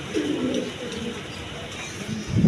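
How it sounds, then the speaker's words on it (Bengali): Silver river-type high-flying pigeons give a short, close coo, followed by a deeper burst of cooing at the end. "মাদিটা হলো সিলভার কবুতর, রিভার জাতীয় হাই ফ্লাইং কবুতর, আর নটটা হলো খয়েরি গলা।"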